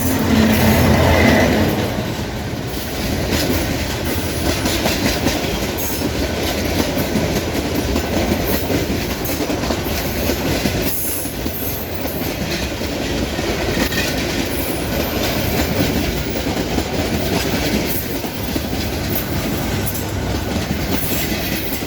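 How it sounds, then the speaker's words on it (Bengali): A train passes along the railway line through the forest of Lawachara National Park near Sreemangal, a loud, continuous rumble and rattling clatter of wheels and cars that holds steady for the whole stretch without pause. "ট্রেন আসতেছে"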